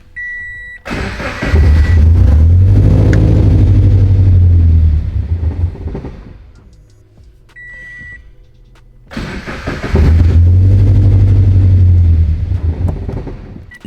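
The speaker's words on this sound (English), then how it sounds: "Let's fire it up for the first time with the new tune and see how it runs." A car engine with a new tune cranks and starts twice, each time rumbling into a loud, rough idle before cutting out, with faint electronic beeps between.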